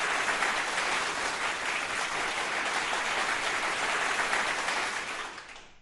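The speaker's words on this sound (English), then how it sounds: "A big round of applause for him." A big round of applause for an award winner at the Times Health Icons ceremony in Bhubaneswar, 2021: dense, steady clapping from a large audience that holds for several seconds and then tapers off at the end.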